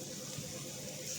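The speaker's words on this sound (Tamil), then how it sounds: "கொஞ்சமாக தண்ணி ஆட் பண்ணி வேக வைக்கலாம்." Water pours into a pot of tomatoes set to boil, a faint, steady, continuous trickle heard alone for a moment.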